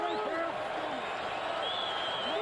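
A loud, steady roar from the stadium crowd at an NFL game between the Cowboys and the Chiefs fills the space without a break, and a commentator's voice rides over it.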